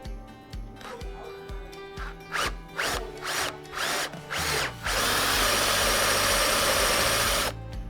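A power drill boring into a wooden stair newel post whirs in several short pulsing bursts, then runs at full speed in one sustained, loud grind before stopping.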